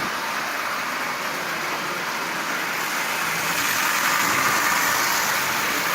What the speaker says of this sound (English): let's turn the power on. Okay, let's see how this goes. So as you see, it's up and running.